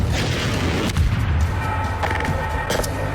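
A rocket launcher fires in the Half-Life 2 beta, giving a loud booming blast with a rumbling tail that fills the short stretch, alone and without talk.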